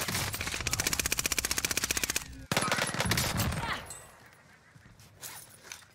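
An SMG fires in the video game Warzone as a rapid, loud automatic burst of evenly spaced shots, followed by a second shorter volley, then quieter in-game rustling and movement.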